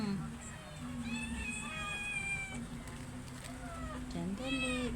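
House cats waiting for treats let out several repeated meows, one after another and fairly close, over a steady low background hum with no clear talk.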